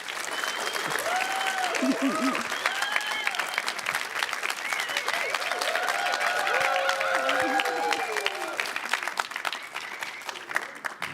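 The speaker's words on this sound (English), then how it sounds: "let's give Jerome Nikolai a giant round of applause" A large audience applauds steadily and loudly at a startup program showcase event, with scattered cheers and voices rising over the dense clapping throughout.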